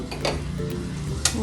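Homemade potato chips frying in hot oil, a steady close sizzle with occasional stirring clinks from a utensil against the pan, brief and moderately loud.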